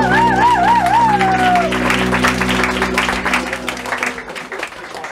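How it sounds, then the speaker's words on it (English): Wedding reception guests applauding, steady clapping and crowd noise at close range, with a sustained musical tone sliding and fading in the first half and cheering mixed in. "How about a big round of applause for everybody,"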